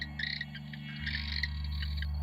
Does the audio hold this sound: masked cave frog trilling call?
yes